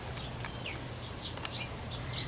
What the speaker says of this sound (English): I was distracted by the house finches.